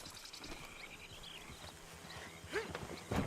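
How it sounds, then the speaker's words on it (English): Horse hooves clip-clop on a dirt trail in the video game Red Dead Redemption 2, fairly faint, with a couple of whinnies and snorts near the end and no speech. "Load Anders onto the back of your horse there"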